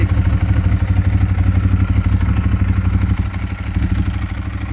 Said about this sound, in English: Now you are listening to a pair of Leo Vince exhaust pipes.